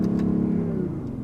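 A BMW i8's 3-cylinder engine revving from inside the car, a loud, close, throaty drone with a steady pitch that sags slightly as it eases off.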